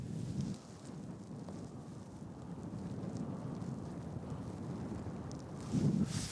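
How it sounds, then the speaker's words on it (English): Strong wind buffets the microphone on a golf course, making a steady low rumble with louder gusts at the start and end. "Wow, that wind is kind of insane."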